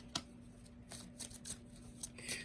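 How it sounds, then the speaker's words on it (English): Archangel Raphael Healing Oracle cards being shuffled by hand, soft papery riffles and slides in several short bursts with small taps between them, close and quiet, no speech. "So now I am shuffling one of our Archangel Raphael Healing Oracle cards"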